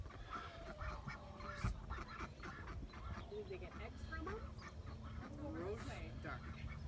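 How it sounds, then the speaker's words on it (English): Several ducks quack intermittently in a farmyard alongside chickens, the calls moderately close and repeated over steady background noise, with people talking nearby. "A couple ducks."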